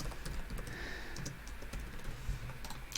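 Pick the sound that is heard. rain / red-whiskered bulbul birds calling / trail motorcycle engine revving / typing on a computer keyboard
typing on a computer keyboard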